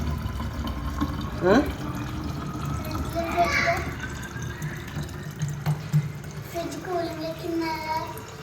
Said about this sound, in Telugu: మొత్తం ఆరు బాటిల్ పట్టాను